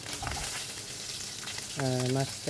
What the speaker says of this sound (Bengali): এখন ওই মাছটা খানিকটা কড়াভাবে ভাজা হয়ে গেছে